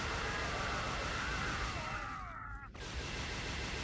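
Turret gunfire in the game Jedi Knight 2: Jedi Outcast: a loud, dense, continuous rattle of rapid shots that dips briefly near the end before resuming.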